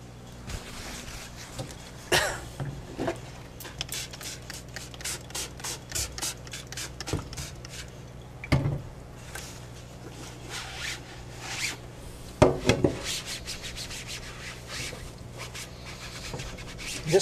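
Rags wiping ink off a screen printing screen during reclaiming, repeated close scrubbing and rubbing strokes in an uneven rhythm, with occasional sharper swipes and scrapes.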